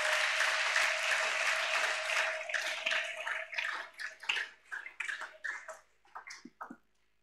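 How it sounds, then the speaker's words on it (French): Congregation applauding during a church service, a dense sustained clapping that thins out into scattered separate claps before fading to near silence. "Acclame pour le Seigneur Jésus"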